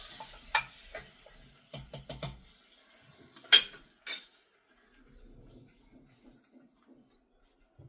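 A spoon stirs tempering into a spinach mash (keerai masiyal) in a metal vessel, giving a few sharp clinks and scrapes in short clusters, then softer, sparse taps before going nearly quiet.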